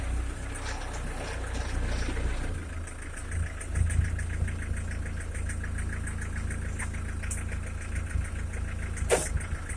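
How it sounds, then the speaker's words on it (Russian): A homemade tractor with a Mercedes diesel engine and a GAZ truck gearbox, running and pulling, with the gearbox giving off a steady whine above a loud, continuous knocking diesel drone, close by throughout, with no talking. "Коробка скуголит газоновская"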